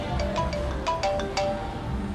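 A mobile phone rings for an incoming call in a quiet indoor scene, playing a short melodic electronic ringtone of bright repeated notes that sound steadily for about two seconds.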